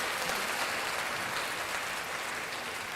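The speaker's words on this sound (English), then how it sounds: "I'll give myself a round of applause since I'm the only one in the room." A round of applause fills the room as dense, steady clapping that holds at an even loudness for the whole stretch, with no voices over it.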